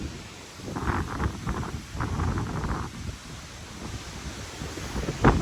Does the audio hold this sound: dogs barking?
no